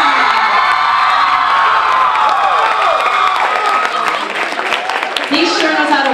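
A talent show audience cheers, shouts and whoops steadily and loudly throughout, with some clapping mixed into the dense crowd noise.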